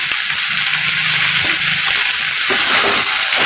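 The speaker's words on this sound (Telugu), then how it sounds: "కుక్కర్లో ఉడకబెట్టిన పప్పు ఇందులో వేసేస్తున్నాం" Cooked dal poured into a sizzling tempering of curry leaves in a pan for a ridge gourd peel dal curry, a steady loud hiss and crackle of frying with soft stirring and splashing.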